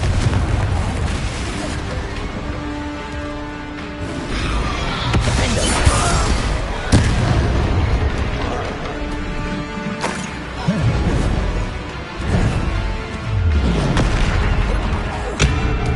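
Explosive spell blasts in the video game Hogwarts Legacy: repeated booms, bursts and crashing impacts pile up in dense, loud, continuous combat noise, with sharp hits every second or two.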